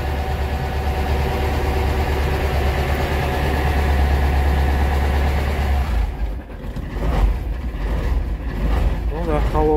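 A cold engine idles steadily with a loud, even low rumble, then grows rougher and more uneven in the last few seconds.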